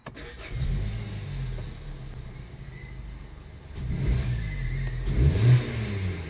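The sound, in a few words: 2011 Hyundai Sonata engine stopped and restarted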